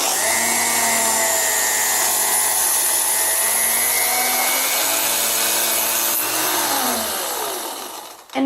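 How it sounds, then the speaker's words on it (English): The motor of a Pepe Tools JRM2 jump ring maker whines loudly and steadily as it cuts chainmaille rings, its pitch shifting partway through before it winds down at the end. "Start up your motor and get things going first, and then move it into your rings."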